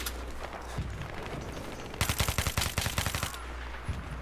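Automatic weapon fire in a Battlefield 3 Armored Kill match on PC: a dense burst of rapid, loud shots dominates the middle of the stretch, with scattered distant gunfire before and after.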